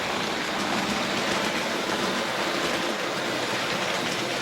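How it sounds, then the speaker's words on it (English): A small OO-gauge model train runs along its track with a steady, dense whirring rumble that stays even throughout. "we've got this little train running"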